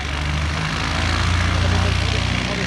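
Steady propeller engine drone of a De Havilland DH-89A Dominie biplane getting airborne, loud and continuous with a low pulsing throb, heard at an airshow.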